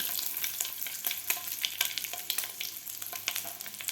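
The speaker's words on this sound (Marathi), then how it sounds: "आता आपण याला पलटी करून घेऊया खालची बाजू व्यवस्थित फ्राय झालेली आहे" An anda pav, Mumbai-style egg and bread, sizzles in a pan after being flipped, a close, crackling fry with sharp spatula scrapes and taps scattered throughout.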